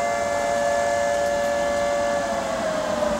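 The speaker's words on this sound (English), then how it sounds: "That one right there was the tornado siren" A town tornado siren being tested wails in a long, steady tone that drifts slightly in pitch, distant but continuous over a broad wash of outdoor noise.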